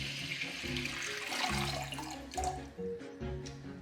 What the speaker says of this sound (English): So, you need to add 100 ml of water, and now you wait for it to boil.